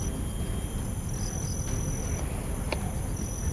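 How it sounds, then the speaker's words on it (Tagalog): Insects chirp in a video game, a steady cricket-like trill running throughout at even volume with no talk over it. "Ayun na yung mga insect ko."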